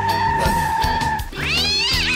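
A cat lets out two loud, drawn-out meows close by, the second rising and wavering like a caterwaul.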